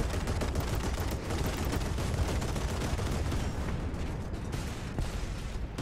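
Naval guns fire in a War Thunder ship battle: a dense, loud, continuous barrage of overlapping booms and rapid shots that rolls on without a break, with no voices over it.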